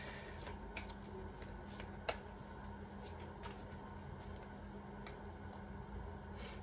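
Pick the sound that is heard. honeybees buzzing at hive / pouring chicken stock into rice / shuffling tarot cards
shuffling tarot cards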